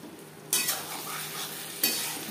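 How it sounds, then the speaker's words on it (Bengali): Fish roe being stirred in a pan with chopped coriander leaves and a pinch of garam masala powder, giving soft scraping and a light sizzle with two sharper utensil strokes near the start and end. "গরম মশলা পাউডার মাছের ডিমের সাথে বেশ ভালো করে মিক্স করে দেবো"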